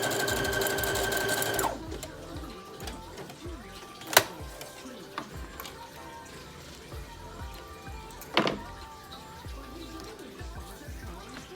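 A sewing machine whirs rapidly for a couple of seconds while stitching a lace closure wig, then stops, leaving quieter rustling and a few sharp clicks and knocks.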